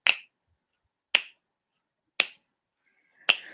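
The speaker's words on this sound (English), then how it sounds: "one person snaps" Four crisp finger snaps at an even, unhurried pace, about one per second, close and alone with silence between them, played as part of a family drumming game.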